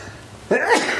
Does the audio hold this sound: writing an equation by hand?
no